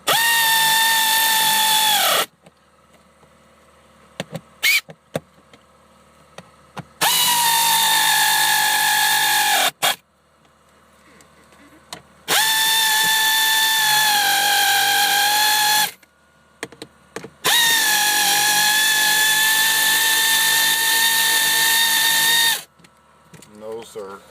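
A power drill drives bolts while a Ford Taurus dash is reinstalled, running in four loud, whining bursts of a few seconds each, separated by quiet pauses with faint handling clicks.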